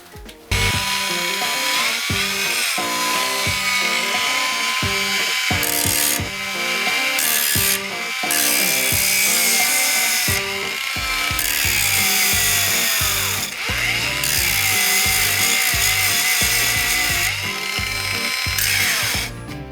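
A Revolt cordless angle grinder cuts into a seam with a loud, close high-pitched whine that rises and dips as the disc bites, broken by short pauses between passes.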